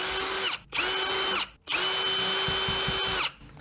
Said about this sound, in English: And then taking a narrow diameter drill bit,